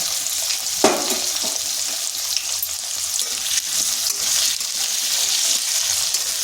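Cut potatoes fry lightly in a pan of oil seasoned with black cumin, two dried red chillies and salt, giving a steady, fairly loud sizzling hiss with a brief sharp crackle near the start and no voices.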